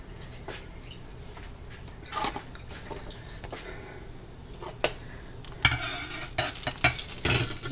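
Onion and garlic brown in an oil-filled pan for a beef and chile dish, with steady sizzling and frequent stirring scrapes that grow louder and busier toward the end.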